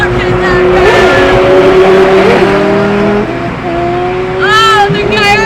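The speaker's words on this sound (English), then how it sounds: "Oh, the Gallardo spitting flames!" A twin-turbo Lamborghini Gallardo supercar revs hard and crackles nearby, its loud engine note rising and falling as excited voices shout over it.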